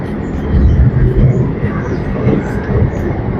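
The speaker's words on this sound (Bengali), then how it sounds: "একটা ট্রেন আসছে" A train pulling into a station, a loud continuous low rumble and rolling clatter with faint murmuring of people in the background.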